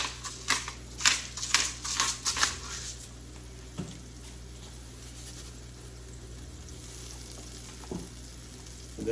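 Onions sizzling gently in a pan for a tortilla casserole, with a few clattering stirs of a utensil early on and then a quiet, steady fry with occasional soft scrapes.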